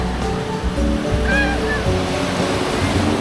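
Ocean surf washing onto the wide white-sand beach of Wedi Ombo in Gunungkidul, a loud, steady roar of breaking waves with a brief high bird-like call partway through.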